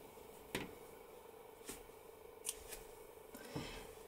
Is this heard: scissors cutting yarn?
yes